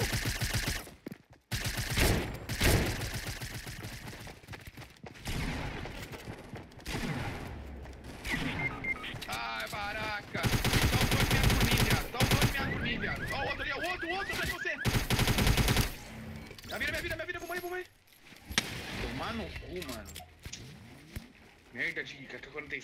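Rapid bursts of AK-47 automatic fire in the mobile shooter Fortnite Mobile crackle through most of the stretch, loud and close, interrupted by brief gaps, with players talking over the shooting.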